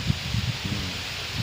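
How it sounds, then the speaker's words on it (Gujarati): Wind rushes through leaves as an unseasonal storm gathers outdoors, making a steady broadband roar with soft, low rustling bursts. "પવન ચાલુ થઈ ગયો, છાંટા પડવા માંડ્યા છે"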